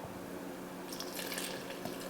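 Water is poured into a mixing bowl of ground beef seasoned with garlic powder, onion powder and paprika, a steady close splashing trickle that grows brighter partway through, with no talk.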